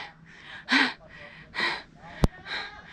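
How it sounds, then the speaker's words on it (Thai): Heavy panting breaths from a climber reaching a viewpoint on a hike near Vang Vieng, Laos: four loud, rhythmic gasping exhales close to the mic, with a sharp click between them. "เสียงหอบเลย"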